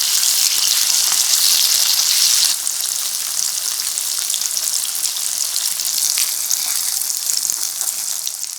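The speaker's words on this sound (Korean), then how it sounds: "식용유를 충분히 두르고 달궈지면 썰어놓은 두부를 올려서 앞뒤로 노릇노릇하게 구워 겉은 단단하고 속은 촉촉하게 만들어주세요." Cubes of tofu frying in plenty of hot cooking oil in a pan, a steady loud crackling sizzle that eases slightly partway through, with no voices.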